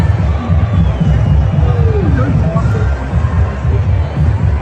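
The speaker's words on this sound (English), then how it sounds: "This is just an overview of the crowd." A large outdoor crowd at a Donald Trump rally in Butler, Pennsylvania: dense, continuous babble of many voices, loud and spread out, with no single speaker standing out.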